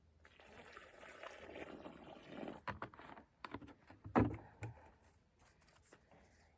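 Water splashes and trickles into a freshly dug planting hole for a dwarf lemon tree, a close, uneven pour with a sharp burst of splashing midway over quiet outdoor background.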